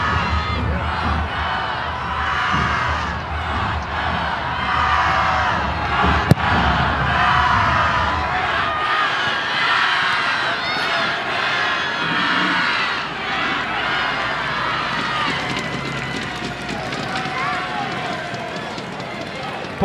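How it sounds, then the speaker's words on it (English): A boisterous crowd at Santa Clara's women's college soccer match, the NCAA College Cup against Florida State, roars and cheers in a loud, steady wash of massed voices lasting throughout, with a brief sharp thump partway through. "Boisterous Santa Clara crowd making its presence felt"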